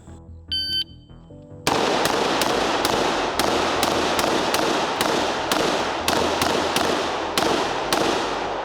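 A timer beep starts a timed shooting drill, and then an old-school rifle fires a rapid, evenly paced string of nearly twenty loud, sharp shots close by, with no voices.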